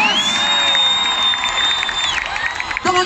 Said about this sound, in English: give them a massive round of applause